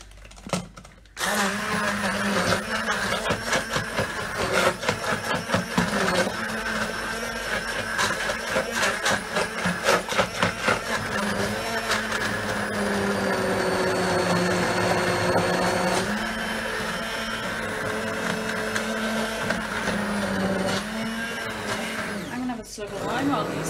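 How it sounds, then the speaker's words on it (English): A blender whirs loudly and steadily through broccoli and Stilton blue cheese soup, running almost without pause for over twenty seconds with a brief drop near the end, with a voice talking faintly underneath. "over to the blender."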